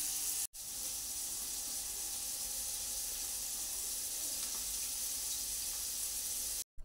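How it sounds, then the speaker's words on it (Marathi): Water from a pot of boiled rice, cooked most of the way for paneer pulao, drains off in a steady, close rushing hiss that runs almost unbroken for several seconds with no talking. "तांदळातलं आपण सर्व पाणी काढून घेऊया."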